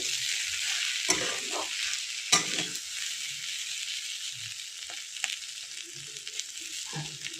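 Potatoes and long beans fry with spices in a pan, a soft constant sizzle with occasional spatula scrapes and knocks against the metal, fairly quiet and close, nobody speaking.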